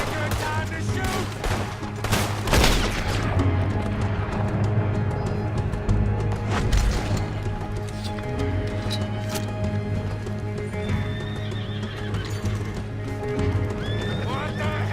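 Gunshots crack amid galloping, neighing horses in Red Dead Redemption 2, with frequent shots over a constant clatter of hooves and people shouting over the action.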